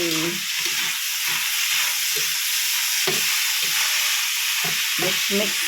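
Sugar is stirred into chicken pastel in a hot pan, a constant broad sizzle with a voice talking over it.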